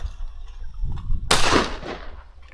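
A 20 gauge Boss & Co side-by-side sidelock shotgun fires a single loud, close shot at clay shooting, a sharp blast that decays over about a second after a quiet lead-in.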